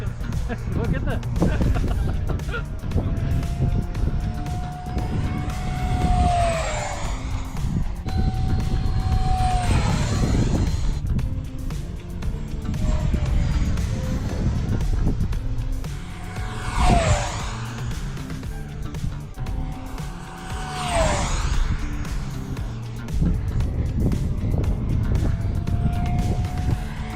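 A Freewing Vulcan RC jet model makes repeated fast passes, its ducted-fan whine rising and falling in pitch with each fly-by, fairly loud, with wind noise and a person talking over it.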